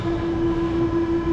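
A subway train in a Mexico City metro station, a loud steady rumble with a strong sustained tone running through the whole short stretch, no voices.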